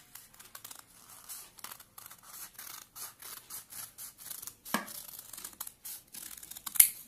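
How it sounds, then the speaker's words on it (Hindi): Scissors snip through fabric to shape a round collar neckline, a run of close, crisp cuts with soft rustling of cloth, ending in a sharper snip. "अब हमने इसकी कटिंग कर देनी है। पहले यहां से थोड़ा सा काट लेंगे।"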